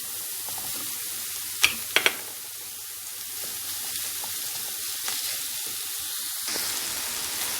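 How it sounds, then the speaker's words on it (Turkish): Ground meat fries in a pan over previously sautéed onions for stuffed peppers. It gives a steady, close sizzle broken by a few sharp scraping clicks from stirring, with no voices. "Şimdi de kıymamı kavuracağım."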